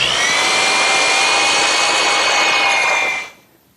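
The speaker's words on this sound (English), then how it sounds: "I'll use now for a 1/4 inch bit for a pilot screw." Power drill with a 1/4 inch bit boring a pilot hole for a screw into wood, a steady loud whine lasting about three seconds before stopping abruptly.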